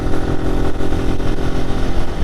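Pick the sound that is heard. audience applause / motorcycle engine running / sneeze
motorcycle engine running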